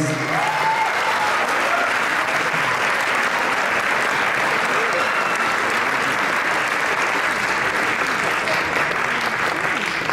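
An audience at a poetry performance in Arequipa gives sustained, dense applause, loud and even throughout with a faint murmur of voices underneath.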